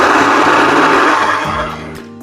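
A blender set to puree whirs loudly as it blends a large batch of pumpkin, its motor droning steadily before winding down near the end, alone with no speech.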